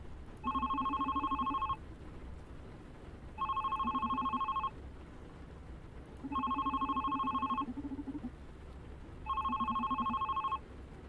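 A telephone rings four times in evenly spaced electronic bursts, each about a second long, clear and close over a soft background of ambient music, in the video game The Red Strings Club.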